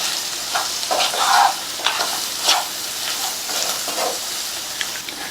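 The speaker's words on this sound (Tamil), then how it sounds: "எல்லாம் ஒன்றா மிக்ஸ் ஆகுற மாதிரி நல்லா கலந்து கொடுத்துருங்க" A spoon scrapes and stirs spices and vegetables, including capsicum, in a sizzling frying pan at close range, with the steady fry hiss and irregular stirring clatter.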